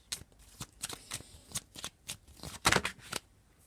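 Divination cards shuffled by hand during a daily reading, a series of quick papery riffling bursts in an uneven rhythm, close and clear, with the loudest flurry near the end and no talk.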